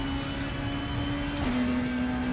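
Straight-cut gear whine from a race car in the RaceRoom racing sim, a steady high mechanical whine held over a constant engine drone, dipping briefly as a shift occurs midway, with no talk.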